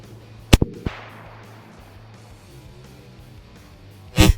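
A Marlin Model 1895 lever-action rifle fires a hot .45-70 load: a sharp, loud crack near the start, quickly followed by lever clacks and a fading echo, with a second loud blast near the end.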